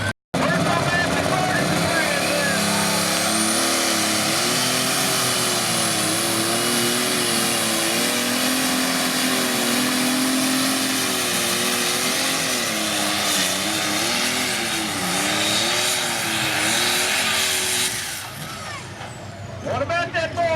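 A Massey Ferguson tractor engine roars loud and steady at a tractor pull, rising and falling in pitch for most of the stretch before dropping off near the end.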